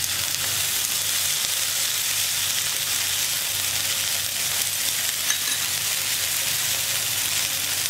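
Taro root (arbi) pakoras fry steadily in hot oil, giving a loud, continuous sizzle that holds without a break and carries no voices.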